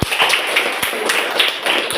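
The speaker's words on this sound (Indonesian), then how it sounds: "Iya, bagus tepuk tangannya." Students in an Indonesian classroom give a short burst of applause, scattered hand claps ringing out fairly close with uneven rhythm over about two seconds, no talking.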